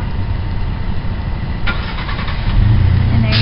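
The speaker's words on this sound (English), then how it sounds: "We're going to remote start this 2011 Ford Platinum F-150 with the EcoBoost motor." A 2011 Ford F-150 Platinum pickup with the EcoBoost engine starts by remote, its steady low engine rumble continuing and then rising louder into a firmer idle toward the end, with no talking.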